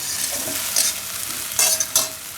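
White sesame and mustard seeds tempering in hot oil for palak muthiya, a close, continuous sizzle with a few brief sharper crackling bursts and stirring, no voices.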